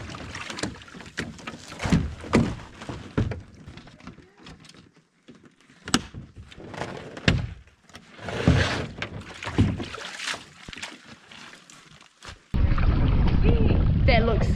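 Canoes being loaded for an outback canoe trip in Canada: hollow thumps, knocks and scrapes of gear against the hulls come in bursts, with people talking nearby, and a steady wind-like rush fills the last couple of seconds.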